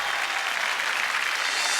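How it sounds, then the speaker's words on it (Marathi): Dense, steady applause from a large audience at a televised women's game show, a continuous wash of many hands clapping with no talk over it. "एकदा जोरदार टाळ्या."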